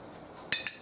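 A red ladle set down among dirty dishes in a home kitchen while cooking tacos, giving three quick, close metallic clinks against the other dishware, with nothing else heard between them.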